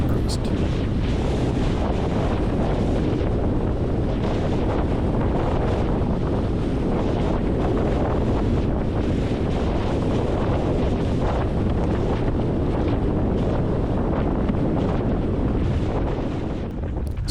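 Strong, gusty wind batters the microphone while windsurfing on open water, a constant loud roar with faint splashes and board noise beneath, unbroken for the whole stretch.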